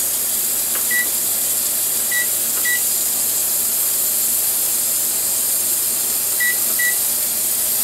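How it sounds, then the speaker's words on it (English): A pressure canner full of meat lets out a continuous, even steam hiss as its weight rides on the escaping vapour, with a few faint short beeps scattered over it. "Mostly it rides on the steam to maintain the proper pressure inside."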